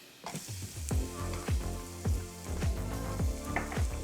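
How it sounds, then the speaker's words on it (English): Onions sizzling as they hit hot grapeseed oil in a heated pan, a steady close crackle with a regular rhythm of soft knocks, likely from stirring, and no talking. "I'll get the pan nice and hot. We'll add some grapeseed oil. And we'll add the onions"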